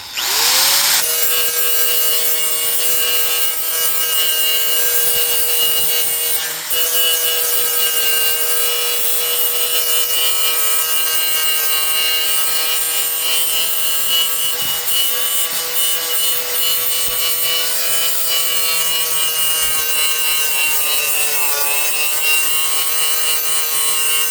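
A power grinder whines steadily and loudly against van roof timber, a continuous high abrasive drone that holds almost unchanged for the whole stretch.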